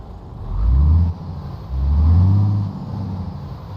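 A heavy 360-horsepower Scania 124G truck engine in Euro Truck Simulator 2 rumbles and revs up twice in deep swelling surges, settling to a low idle between them.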